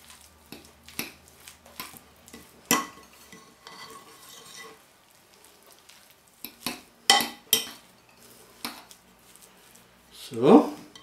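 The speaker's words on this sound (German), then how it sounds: "so hier sind die Eigelb schon drin. Und das rühren wir jetzt ein bisschen unter." Egg yolks being stirred into a potato soufflé mixture in a bowl, with soft scraping and clinking strokes repeating at close range and a few sharper knocks, while a person talks intermittently over the work.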